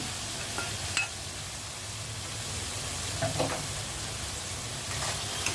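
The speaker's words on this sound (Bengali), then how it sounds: "আগে ডাটাগুলি একটু ভালো করে কষিয়ে নিব" Vegetable stems frying in a pan, a steady dense sizzle with a few soft spatula stirs, with no voices.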